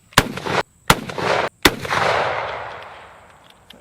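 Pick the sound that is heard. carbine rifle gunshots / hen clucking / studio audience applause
carbine rifle gunshots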